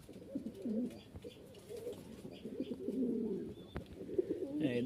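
Pigeons of a fancy or Giribaj breed, held at a sale, coo repeatedly in a low, throaty murmur close by, with overlapping calls running steadily throughout and a few brief background noises.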